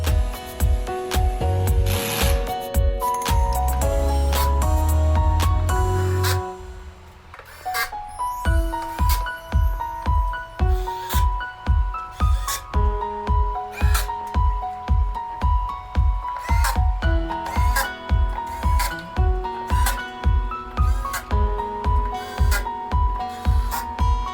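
Screws being driven into a 51.2V 100Ah battery pack box top panel, a fast rhythmic ratcheting clatter repeating steadily for over twenty seconds after a brief louder buzz at the start, close and without speech.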